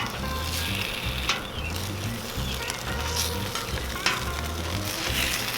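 Wagyu smash burgers sizzling on a Cuisinart 360 griddle, a loud continuous close sizzle with occasional spatula scrapes and taps, no speech.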